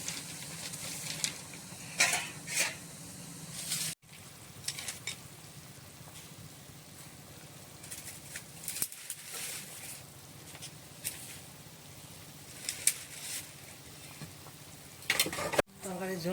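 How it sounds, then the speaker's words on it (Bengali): Thin curry broth with potatoes for tilapia fish simmers in a pot, a soft continuous bubbling and sizzling patter with occasional louder pops and faint clinks, fairly close and quiet. "তরকারির ঝোল ফুটে গেছে"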